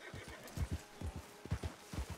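Horse hooves clip-clopping in Red Dead Redemption 2, a steady run of soft, low thuds in a regular rhythm, moderately close and fairly quiet.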